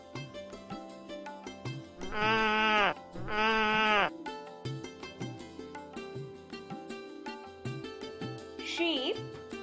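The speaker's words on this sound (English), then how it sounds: "Sheep," A sheep bleats twice in quick succession, two loud wavering cries of about a second each, set among softer clicks and shuffling, with a brief faint call near the end.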